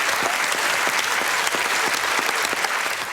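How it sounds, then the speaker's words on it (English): A studio audience applauding at a comedy panel show, dense sustained clapping from many hands filling the whole stretch at steady strength, with no voices on top. "Let's have a round of applause"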